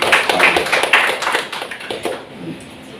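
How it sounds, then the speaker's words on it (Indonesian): An audience at a talk in Indonesia gives a short round of applause, close and fairly loud claps that thin out and fade over a few seconds. "Mari kita beri aplaus untuk teman yang sudah"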